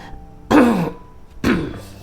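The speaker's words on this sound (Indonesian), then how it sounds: "sorry batuk." Two separate coughs close to the mic, about a second apart, each a sharp harsh burst trailing off, with quiet in between.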